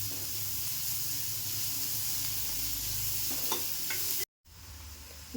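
Chopped onion sautés in a pan for a besan capsicum dish, a soft continuous sizzle with occasional stirring scrapes, close but quiet, briefly cut off near the end.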